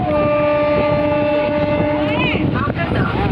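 A night train running from Howrah to Amta rumbles steadily along the tracks with continuous rolling noise and a faint high whine, close by, while a voice talks over it.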